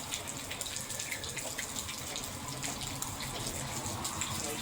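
Rainwater streams steadily down over a heating cable during a rainy outdoor install, a continuous close hiss of running and splashing water with no pauses.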